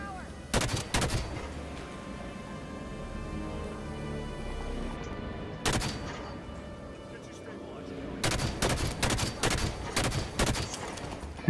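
Battle rifle gunfire in Halo 5 on Legendary: sharp, close bursts of shots cracking in quick groups, a lone shot midway, then a dense run of rapid bursts near the end over low game ambience and music.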